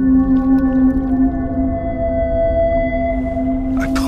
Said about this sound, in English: It was a pod of a dozen whales.